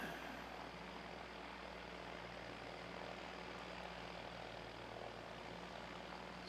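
A Jetstar airliner from Auckland arriving at Christchurch International Airport, heard as a steady, broad engine roar that holds at an even level from beginning to end with no voices.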